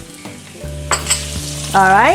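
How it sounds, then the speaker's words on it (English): Garlic is dropped into a quarter cup of hot olive oil in a pan and sizzles loudly and close. A voice speaks briefly over it, and the frying swells as the garlic goes in. "I put a 1/4 cup of olive oil in the pan and I think it's just about ready. You see, it's sizzling."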